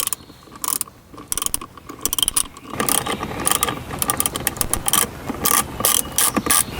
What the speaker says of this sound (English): We're going to remove these two screws here. These are both 10mm. You can use an extension.